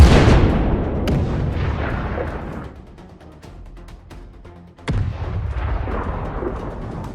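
Tank main gun firing during the war in Ukraine: a heavy blast that rumbles and fades, then a second sharp, loud boom near the five-second mark that rolls on afterward.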